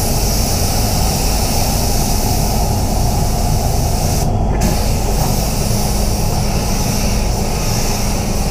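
Paint spray gun coating a BMW 118d: a steady, loud hiss of air and atomized paint running unbroken throughout, close to the listener.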